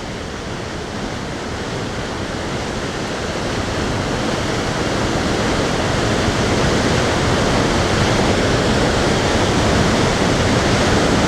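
Waterfall at Nay Aug Park in Scranton, Pennsylvania, heard from the end of the trail as a steady, loud, broadband rush of falling water that swells slightly over time, with no voices.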